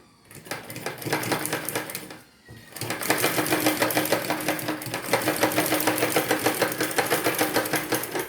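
An electric sewing machine stitches a handbag in fast, steady mechanical bursts, pausing briefly near the start and again around two seconds before running continuously, close and loud with no talking.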